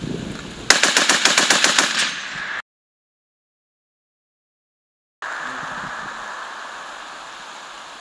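M2 .50-caliber heavy machine gun firing at targets, a loud rapid burst of about a dozen heavy shots for roughly two seconds. Then abrupt silence, and a steady wash of outdoor noise follows.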